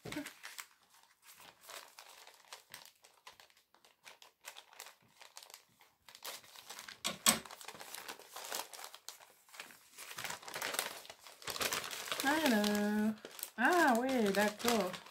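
Paper and plastic wrapping of an advent calendar package crinkles and tears as it is opened, rustling on and off close by, with a voice talking briefly near the end.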